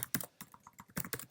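A short burst of typing on a computer keyboard, roughly a dozen crisp key clicks in uneven rapid succession, close and fairly quiet.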